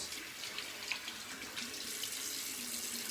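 Cold tap water runs steadily into a sink for a rinse after shaving: a continuous close hiss and splash without pause or speech.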